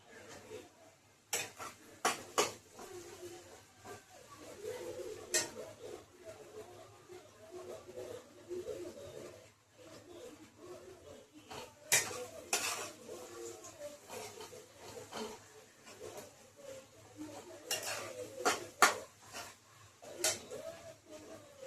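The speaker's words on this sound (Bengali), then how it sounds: "এবার লঙ্কা আর মশলাগুলো দিয়ে দেবো।" A spoon stirs chilli and spices into fried onions in a pan while a chicken dish is cooked. Quiet scraping and irregular metallic clinks and taps come against soft background noise.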